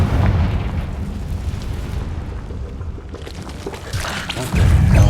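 A Confringo spell explosion from Hogwarts Legacy erupts in a heavy boom, followed by a rumbling, crackling tail that swells into another loud blast near the end.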